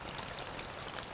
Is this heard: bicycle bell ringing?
no